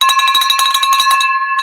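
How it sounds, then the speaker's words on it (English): A celebration bell rung in a podcast studio, a bright metallic clang with rapid repeated strikes that ring on and decay, followed by one more faint tap near the end, heard alone without talk. "This is the celebration bell."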